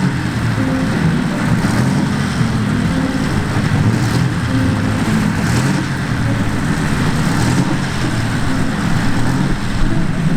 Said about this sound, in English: sights and the sounds of French race cars from the end of the Ballot, the 3-litre